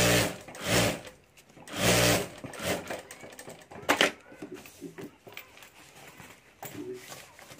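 A sewing machine stitches handbag lining in short bursts of rapid whirring, stopping and starting several times, with quieter handling noises between runs.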